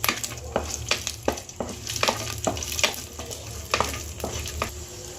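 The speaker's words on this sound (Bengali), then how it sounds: "3টে চেরা কাঁচা লঙ্কা, কাজু কিশমিশ, দিয়ে ভালো করে ভেজে নেব।" Slit green chillies, cashews and raisins frying in oil in a pan, a steady close sizzle broken by repeated stirring scrapes at an uneven rhythm, with no talk.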